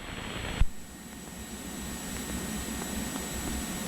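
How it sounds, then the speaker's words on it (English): An Airbus airliner on approach to the runway at Monterey makes a steady, distant broadband jet roar that holds at an even level after a brief thump near the start. "There comes the Airbus."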